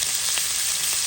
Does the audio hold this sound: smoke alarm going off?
no